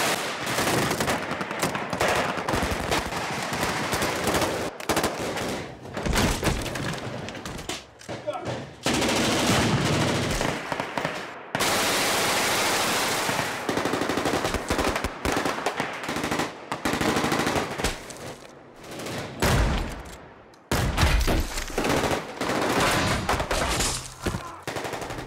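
Film shootout with dense, loud bursts of rapid machine-gun and gunshot fire lasting throughout, mixed with narration over the action.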